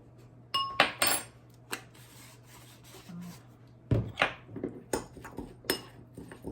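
A spoon clinks and scrapes around a bowl while dry rub spices are mixed with baking powder for oven-fried chicken wings, giving sparse, close taps and gritty rubs with no talking.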